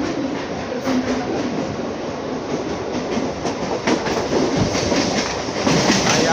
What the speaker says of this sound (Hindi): भाईखला से एक मिनट रुकने के बाद अपने ट्रेन का डिपार्चर हो चुका है